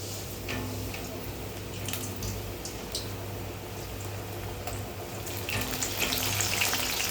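Ribbon pakoda dough fries in hot oil, a soft, steady crackling sizzle with light bubbling, fairly quiet and continuous, swelling slightly toward the end.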